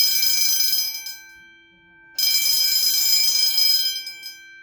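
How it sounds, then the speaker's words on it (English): An Edwards fire alarm bell ringing loud and continuous in two long bursts separated by a brief pause, with a harsh, metallic, shimmering clang. "This is an Edwards bell."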